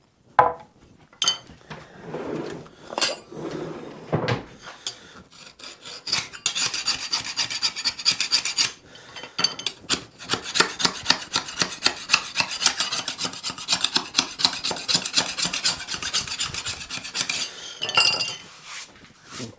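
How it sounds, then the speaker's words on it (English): A hand scraper scrapes old finish off a Squire Stratocaster guitar body in quick, repeated rasping strokes, close and dry, with no voices. "So I've got myself a nice scraper."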